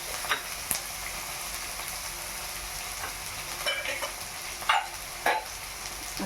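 Peanuts tipped into a hot pan of onions fry with a steady close sizzle, broken by several sharp scraping and clattering bursts as they are stirred.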